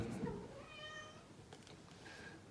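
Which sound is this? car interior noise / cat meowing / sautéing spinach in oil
cat meowing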